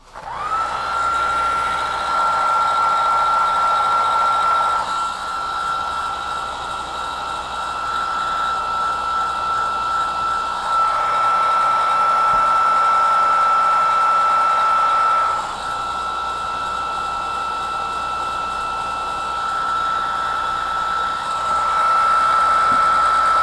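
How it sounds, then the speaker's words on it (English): A heat gun shrinks heat-shrink tubing on 2019 KTM 690 Enduro motorcycle wiring, blowing with a steady high whine whose level rises and drops as it is moved, no talk. "Heat gun."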